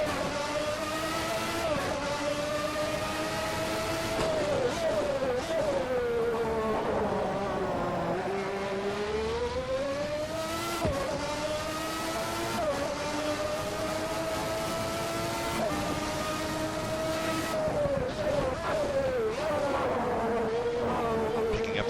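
A McLaren MP4/6 Formula 1 car in a racing video game, its engine note sweeping up and down continuously as it brakes hard and downshifts through a sequence of gears, loud and steady throughout with no talk.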